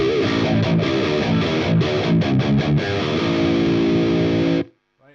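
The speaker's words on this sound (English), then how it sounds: "this is the metalcore tone, as I call it" A 7-string guitar playing a heavily distorted metalcore riff through an analog amp with a cabinet loaded with V30 speakers, chugging palm-muted chords and short stops, ending on a held ringing chord that cuts off.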